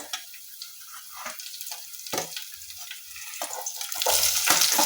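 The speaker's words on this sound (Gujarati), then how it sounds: "હવે એમાં આપણે કાપેલી ડુંગળી ઉમેરીએ" Sliced onions added to browned garlic and sautéing in a pan, bursts of crackling hiss with repeated stirring scrapes, rising to a louder, fuller sizzle at the end.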